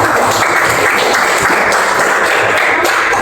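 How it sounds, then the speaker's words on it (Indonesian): Steady, dense applause from a classroom group clapping together, loud and continuous throughout. "Terima kasih tepuk tangan untuk kelompok 2."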